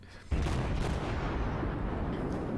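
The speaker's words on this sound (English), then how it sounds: "Now I'm shooting armor piercing at a destroyer." Naval guns firing armor-piercing shells at a destroyer from a USS Omaha cruiser in World of Warships, a heavy booming blast that kicks in after a quiet moment and sustains as a loud, dense rumble.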